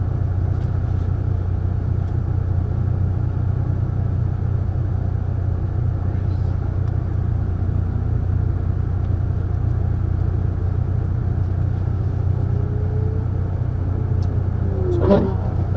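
A Ferrari F430 running on a racetrack, heard as a steady low engine rumble and drone from inside the car, fairly even with no sharp revving, and a faint click near the end.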